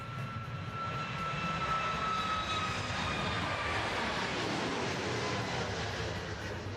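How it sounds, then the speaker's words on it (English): An airplane takes off at Dallas Love Field with a broad, steady engine roar that holds through the whole stretch. It sounds moderately distant, and no one speaks over it. "Well, you just saw a plane take off in front of me."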